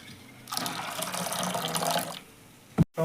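Water pours steadily into a container holding a pistachio drink, a continuous splashing stream lasting about a second and a half, followed by a brief knock.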